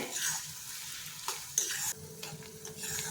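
Chopped onions frying in oil for dum aloo while a spoon stirs them around the pan, a soft steady sizzle broken by scraping strokes, close and with no talk.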